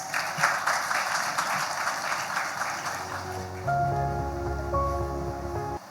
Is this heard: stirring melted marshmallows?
no